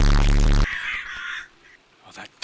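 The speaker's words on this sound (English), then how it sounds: "The crows just called." Crows caw in a horror game with Bigfoot, harsh raspy calls following a loud burst at the start, then fading to faint scattered sounds.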